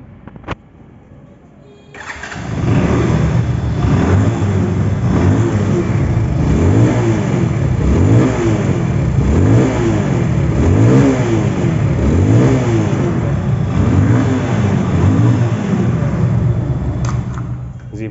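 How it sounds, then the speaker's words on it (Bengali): A Zara 110 second-hand motorcycle engine starts up and is revved repeatedly, close and loud, in a rising-and-falling rhythm that carries on for about fifteen seconds. "বাইকটির সাউন্ড কোয়ালিটিও 100-100 আছে"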